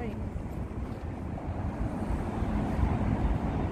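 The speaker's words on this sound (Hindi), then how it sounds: "अच्छा बोट आई है।" A boat approaches across open water in Holland, a low rumbling engine drone that slowly grows louder beneath heavy wind buffeting on the microphone.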